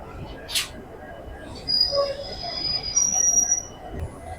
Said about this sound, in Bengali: চক্রধরপুর এক্সপ্রেস হাওড়া স্টেশন থেকে ছেড়ে দিল, গন্তব্য পুরুলিয়া।